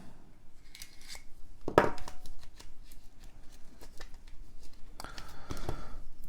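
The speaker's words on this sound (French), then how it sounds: "allez, on va ouvrir ce paquet-là" A Super Fantasy Brawl card game pack is torn open up close, with soft crinkling and handling. One sharp rip comes early, and a longer crackling flurry of wrapper noise follows near the end.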